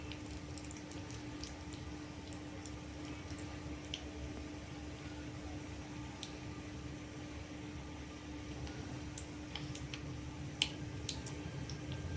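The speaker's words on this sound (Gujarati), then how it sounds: "રાઈ તતડી ગઈ છે." Mustard seeds with urad dal crackling in hot oil for a tempering, a dense, steady sizzle with scattered small pops and ticks continuing throughout, close by and with no talk.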